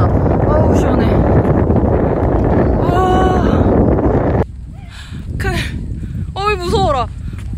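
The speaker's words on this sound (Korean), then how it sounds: "바람 부니까 더 흔들리네." Strong wind buffets the microphone on a rocky ridge trail on Saryangdo island, loud and steady at first and then dropping into gustier rushes, with someone speaking over it.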